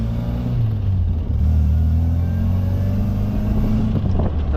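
An MGB sports car fitted with a supercharger drives along with a steady, deep engine rumble and a slight rise in revs, heard from inside the car without speech.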